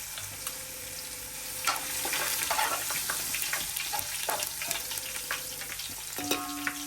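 Steady hissing and crackling of garlic frying in hot tempering oil, with occasional clinks of a utensil against the pan.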